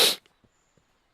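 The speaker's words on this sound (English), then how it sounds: "I sneeze again." A sick person lets out a single sharp sneeze right at the start, followed by near silence with only a few faint, small noises.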